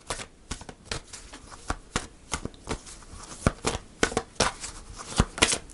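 Tarot cards are shuffled and drawn in a quiet room, a rapid series of crisp slaps and riffles, close and distinct with no talking.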